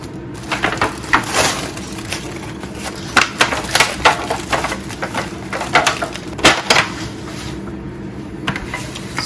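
Rested smoked pulled pork, cooked on a kettle grill, is unwrapped from its foil with repeated crinkling, crackling rustles close by, in bursts over a quiet background.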